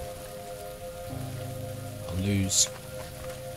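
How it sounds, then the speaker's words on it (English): Steady rain in PUBG, a soft continuous patter running through the whole stretch, with a few brief game sounds and a short spoken phrase layered over it. "The rain started up again, which is nice."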